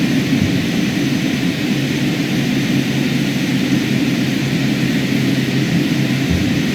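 Carenado King Air B200 turboprop on its takeoff roll in Microsoft Flight Simulator 2020, a loud continuous engine roar with propeller hum holding steady throughout, no speech.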